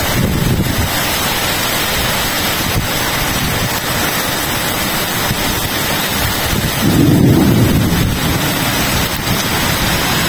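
Heavy rain pours steadily in Qatar with a deep rumble of thunder rolling in partway through; no voices.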